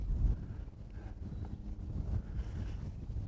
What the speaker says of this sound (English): With this wind, it's probably okay